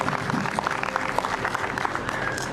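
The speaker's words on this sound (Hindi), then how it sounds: "हिंदुस्तान की हर महिला को इस रोहिणी पंड्या के सम्मान में तालियां बजानी चाहिए" An audience claps steadily at a Hindi poetry symposium (kavi sammelan) for Maharana Pratap Jayanti in Gogunda, dense crowd applause sustained throughout.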